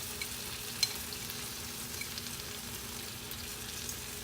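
Buffalo mayonnaise sauce sizzles steadily in a hot pan for tofu, a continuous frying hiss with light stirring scrapes and one small tap near the start, no voices.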